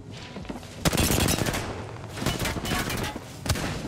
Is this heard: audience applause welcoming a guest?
no